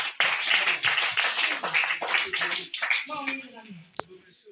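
A church congregation claps in praise during a French-language worship service, a dense run of overlapping hand claps over a few seconds, with a voice speaking over it and fading near the end.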